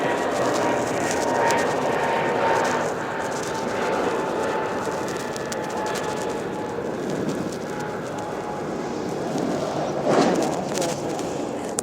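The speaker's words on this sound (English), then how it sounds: "you're listening to the planes taking off right here at 1630 and 1486" Jet airplanes taking off across the street from a residential spot, a steady broad engine roar that fills the whole stretch with a slight swell near the end, heard alone without talk.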